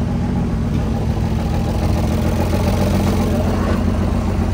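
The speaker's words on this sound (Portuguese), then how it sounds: "Liga o carro." A Chevrolet Caravan Turbo's engine runs at a steady idle throughout, a continuous low rumble filling the whole stretch with no pauses.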